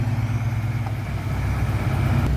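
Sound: tractor engine running on slippery ground

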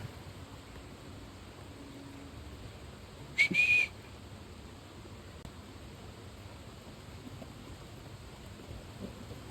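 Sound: rain falling

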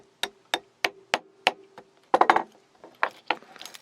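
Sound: hammer tapping out watch strap pin

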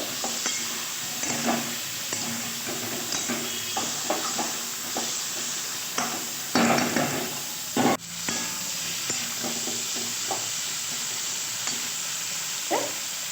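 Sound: frying winter vegetables with hilsa fish head and tail

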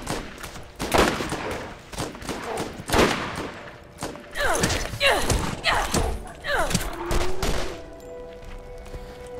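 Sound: gunfire in the video game Borderlands

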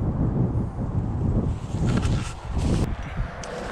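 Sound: wind blowing on the microphone outdoors

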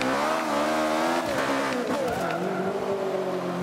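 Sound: Ariel Atom V8 car driving in Forza Motorsport 5 video game

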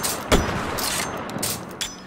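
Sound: gun firing in the VR video game H3VR

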